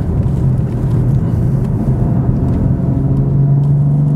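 BMW M3/M4 turbo car driving on a race track, a loud low rumbling engine drone that holds steady and rises slightly in pitch toward the end, heard close and continuous.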